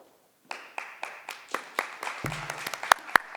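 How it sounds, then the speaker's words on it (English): Audience at a public hearing in Rochester, New York, clapping; a few scattered claps begin, then grow into steady, moderately close applause from a modest crowd. "I will let her know you applauded for her."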